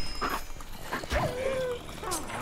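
A dog companion in Minecraft Dungeons whimpering and yipping amid combat, with short whines and yelps over game background sound and a person talking.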